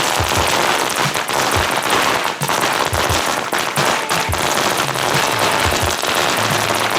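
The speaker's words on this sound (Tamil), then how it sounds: "வெடிச்சு ஸ்பார்க் ஆகுது." Sivakasi firecrackers bursting and sparking in a loud, dense barrage of sharp cracks and pops that run unbroken for the whole stretch, over a constant crackling hiss.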